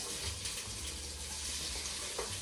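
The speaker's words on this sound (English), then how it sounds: "You're gonna carefully add your onion into this pot that has all of that bacon fat in it" Chopped onion hitting hot bacon fat in a soup pot gives a steady broadband sizzle and crackle with low rumbling underneath, close and continuous for a couple of seconds.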